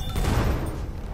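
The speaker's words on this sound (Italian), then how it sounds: "Ora lancio una granata!" A grenade explodes in a World War I shooter at Monte Grappa, a single loud close blast with a broad rumbling burst that decays over about a second.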